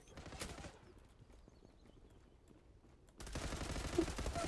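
Gunfire in the online shooter Zula: a short burst of rapid shots at the start, then a quieter stretch, then dense close firing resuming toward the end.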